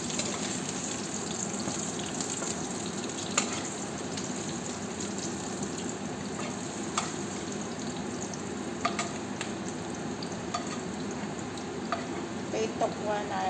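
Tofu (tokwa) fries in a pan with a steady, dense sizzle and crackle throughout, dotted with occasional sharper pops and spatters, close and continuous.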